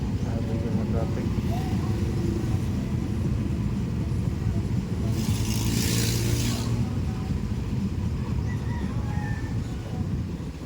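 Road traffic drones steadily as cars pass close by, with a louder hiss of a passing vehicle midway; people talk over it.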